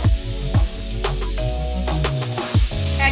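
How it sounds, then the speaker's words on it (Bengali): Fish frying in a pan with tomato ketchup, salt and coriander leaves, a loud close sizzle with stirring scrapes and spattering bursts, no talking. "আর ভালো করে কিন্তু মাছটাকে ফ্রাই করে নেব"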